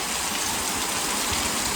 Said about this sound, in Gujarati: વરસાદ બહુ ચાલુ છે, કંઈક બતાવું કેવી રીતના વરસાદ ચાલુ છે.